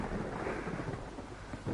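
Rain and rolling thunder in the survival video game Ark, a faint, steady wash of rainfall with a low thunder rumble that swells and fades, with no voices.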